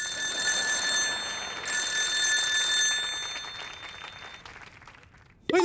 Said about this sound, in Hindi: बार बार बजाए टेलीफोन की घंटी।